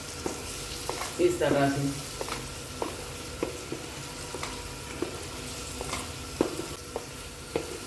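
Mutton liver being mixed with a splash of vinegar in a frying pan: a soft, steady sizzle broken by scattered scraping and tapping of the spoon, with a brief bit of talk near the start.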